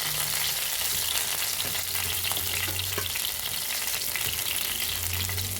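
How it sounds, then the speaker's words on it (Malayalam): Chicken frying in a pan sizzles loudly and steadily, close up, with stirring scrapes now and then and no voices. "നമ്മുടെ ചിക്കൻ എല്ലാം തന്നെ മുരിഞ്ഞ് വന്നിട്ടുണ്ട് കേട്ടോ"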